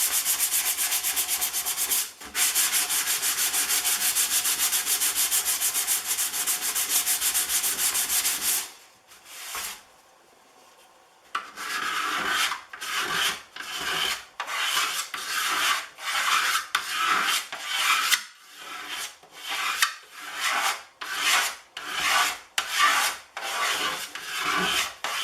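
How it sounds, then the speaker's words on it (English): Steady, raspy rubbing on rosewood guitar wood treated with mineral spirits, first a continuous scrubbing stretch, then a short pause, then a long series of rhythmic back-and-forth strokes, close and clear with no voices. "Rub a little bit of mineral spirits on here."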